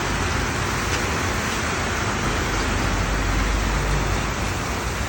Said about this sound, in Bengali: বছরের মৌসুমের প্রথম বৃষ্টি